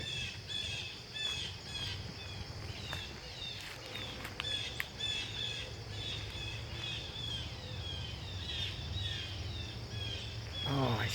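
Birds call in windy woods along an old railroad line, with repeated squawks and chirps layered over steady wind noise and a low rumble, sounding moderately distant and continuing throughout.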